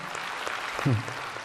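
A church congregation applauds during a sermon, a steady wash of many hands clapping at a moderate distance, with a brief voice breaking through partway.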